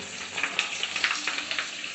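Small puris fry in hot oil for pani puri, giving a close, continuous crackling sizzle with quick bubbling pops scattered throughout.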